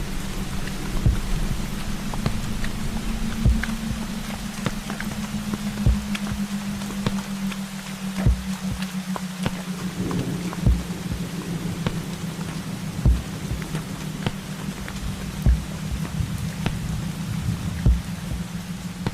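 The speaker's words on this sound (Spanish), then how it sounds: "La lluvia y el barro no nos dejaban avanzar." Steady heavy rain pours throughout, with scattered louder drips and a low constant rumble underneath, no voices.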